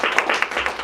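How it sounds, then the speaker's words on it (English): Audience clapping after a brass quintet finishes a three-movement suite at a winter concert, a close, steady patter of applause. "Always applaud at the end of a three-movement suite of tunes"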